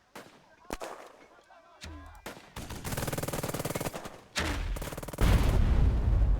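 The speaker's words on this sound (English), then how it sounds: "We're going to drop a mortar round onto this MG here." Mortar and machine gun fire in the World War II strategy game Burden of Command, Meyers Hill mission: sharp isolated shots, then rapid rattling bursts of automatic fire and heavy booming impacts that build louder toward the end.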